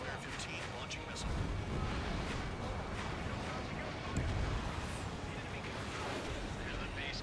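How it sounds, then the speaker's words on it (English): A missile fired from a fighter jet in the Ace Combat 7 video game roars out over a dense, continuous rumble of jet engine and combat noise, fairly loud throughout, with a voice talking over it. "Spare 15 launching missile"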